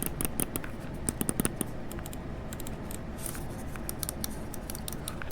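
Rapid, crisp clicks from the optical switches of a Lamzu Maya X gaming mouse, fired in quick irregular bursts and single taps, close and dry over a steady faint background hiss.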